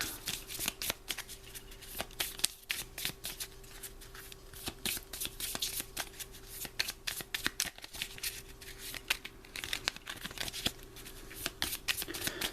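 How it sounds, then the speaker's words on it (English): A deck of playing cards is shuffled over and over, the dense riffling clicks coming in quick bursts close to the listener, with no talking. "Terrible shuffling as well."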